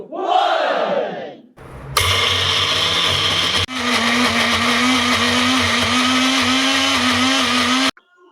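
Loud mixer grinder whirring as spinach, cumin and small onions are ground into a chutney paste, starting and stopping in two sustained runs after a brief opening sound.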